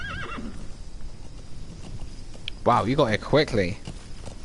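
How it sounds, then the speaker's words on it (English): A horse in Metal Gear Solid V: The Phantom Pain whinnies loudly and nearby, with hoofbeats clopping; a person speaks briefly over the game sounds. "Use your horse. Right stick while holding L1. Call a horse."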